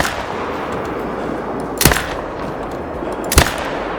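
Two booming .308 bolt-action rifle shots in the hunting game Call of the Wild, sharp and loud, about a second and a half apart over a steady outdoor ambience.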